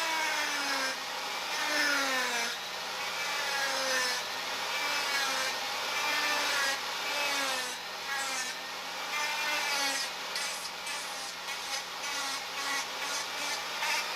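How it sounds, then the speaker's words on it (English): A small high-speed variable-speed Dremel rotary tool whines as it sands a wooden block with a sanding drum, its pitch rising and falling with steady grinding and rubbing against the surface. "Now I have a variable speed Dremel tool, which is a big help"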